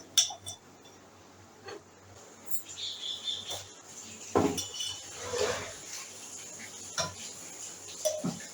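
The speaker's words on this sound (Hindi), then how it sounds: "हमने एक पतीला ले लिया है और इसके अंदर हम ये स्टील के गिलास ले लेंगे।" Steel glasses clinking inside a cooking pot as they are greased and set down, sharp metallic clinks and taps spread out over several seconds against a quiet kitchen background.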